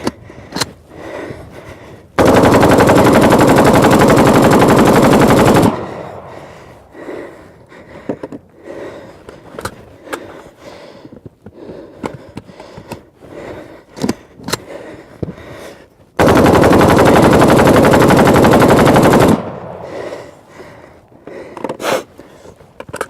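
A Kalashnikov assault rifle fires in two long, loud continuous bursts of several seconds each, separated by scattered single sharp reports and handling noises outdoors.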